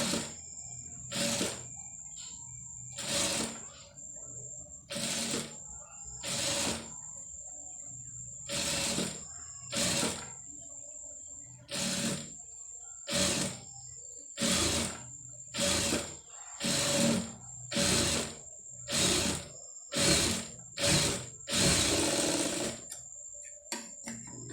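Sewing machine stitching thread piping onto garment lining, running in short repeated bursts of whirring stitches separated by brief pauses, close and fairly quiet.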